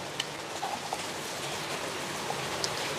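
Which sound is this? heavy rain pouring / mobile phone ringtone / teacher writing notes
heavy rain pouring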